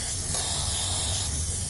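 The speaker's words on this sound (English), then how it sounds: "spray lube" Spray lube sprayed from a can onto the shaft of a StairMaster 4000 stepper, a close, continuous aerosol hiss lasting under two seconds.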